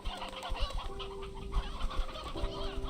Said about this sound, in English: I hear a chick somewhere in here.